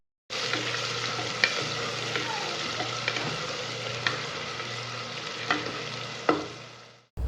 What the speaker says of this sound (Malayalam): ഇനി ഈ സവാള നന്നായിട്ടൊന്ന് വഴറ്റിയെടുക്കണം